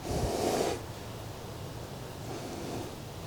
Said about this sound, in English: Still snorting.